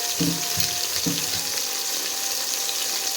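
Onions and two tomatoes frying together in a pan for a biryani side curry, a steady close sizzle with a couple of soft clinks near the start, no talk.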